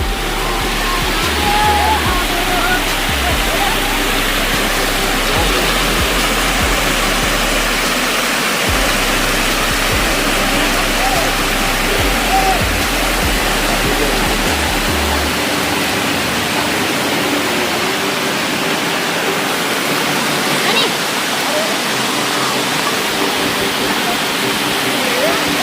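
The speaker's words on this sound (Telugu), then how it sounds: "మనం వచ్చేసి ఫ్రంట్ నుండి వాటర్ ఫ్లో అవుతున్నది చూస్తున్నాం." Water pours steadily from the front of the Pedderu reservoir project, a loud, continuous broadband rush that stays constant throughout.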